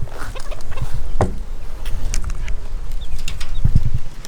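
Fowl around a golden pheasant chick scratch and cluck close by in a sequence of short, scattered calls and rustles, with a couple of sharper bursts and a few low thumps near the end, and no voices.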